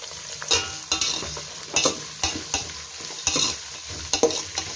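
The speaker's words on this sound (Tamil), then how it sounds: "வெங்காயம் நல்லா வதங்கிடுச்சு." Onions sautéing in a pan for home-style ghee rice with chicken kurma, a spoon stirring them in repeated scraping strokes over a steady soft sizzle, close and moderately loud.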